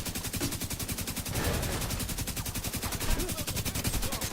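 Rapid automatic gunfire in the video game The Division 2 rattles continuously for several seconds, a dense, evenly spaced stream of shots emptying a full magazine, with no talk over it.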